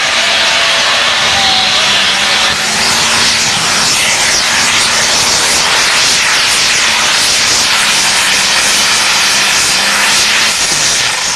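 An International pro stock pulling tractor at a pulling event roars loud and steady at full power, a dense sustained engine blast with no pause.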